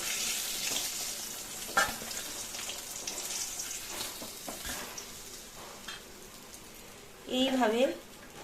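Hilsa fish sizzling in hot oil, a busy crackle with scattered clinks and stirring knocks, ending with a short burst of louder tonal clatter.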